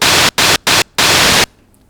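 White noise from a Roland GAIA SH-01 synthesizer, played as four loud, hissing bursts of differing length separated by short gaps, the last and longest one cut off sharply into near silence.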